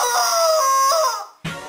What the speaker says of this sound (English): this is a chicken. It makes really bad sound.